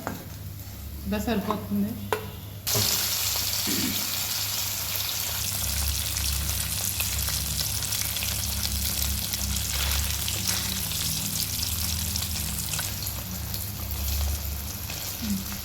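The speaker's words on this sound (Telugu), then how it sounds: "బాగా వేగుకొనియండి." Fish frying in oil in a pan, a steady, close sizzle and crackle that runs throughout, with a brief clatter of the utensil and a short spoken remark at the start.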